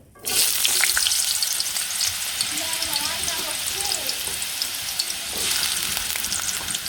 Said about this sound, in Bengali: মিষ্টি লাউ ভাজি করুন এখন কড়াইতে দিয়ে নিই